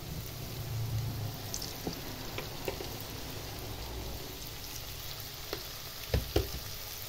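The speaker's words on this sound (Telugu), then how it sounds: "నూనె బాగా మరిగిందండి. అలా ఒక్కొక్కటి వేసి వేపుకోవాలి." Ravva kajjikayalu, semolina-filled sweets, fry in hot oil with a steady bubbling sizzle, broken by occasional sharp pops and faint utensil clinks near the end.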